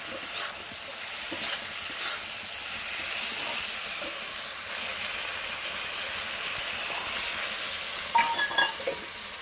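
Snail and mussel curry with vegetables sizzles in a pan while being stirred, giving a steady close hiss with scattered scraping clicks, no voices.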